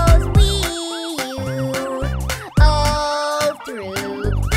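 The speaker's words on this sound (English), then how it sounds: "The siren on the fire truck goes wee-you" Fire truck siren in a kids' song, a rising and falling synthesized wail repeated in a steady rhythm over bright backing music.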